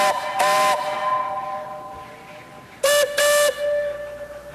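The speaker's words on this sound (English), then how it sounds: "the silence is broken by the sound of a distant whistle" Out in snowy wilderness, a steam train whistle sounds in clear tonal blasts, one short blast followed by two more after a pause. The whistle is fairly faint and carries over a quiet background.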